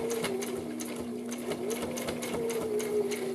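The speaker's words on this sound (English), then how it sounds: "we're just going to sew all the way around" A sewing machine stitches all the way around a fabric face mask, its motor humming steadily with rapid rhythmic needle clatter, close and continuous with no talk.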